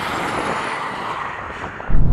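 A BMW M2 with a torque-converter automatic gearbox accelerates hard in a drag race, giving a steady, loud, broadband engine roar with rushing wind noise, followed by a louder low surge at the very end.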